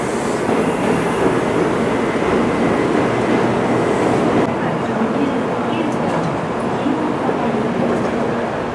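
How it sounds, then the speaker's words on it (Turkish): A Shinkansen bullet train pulls into a station in Japan bound for Osaka, a loud continuous rumble and rush of rolling stock filling the whole stretch with steady platform noise. "Trenimiz geldi."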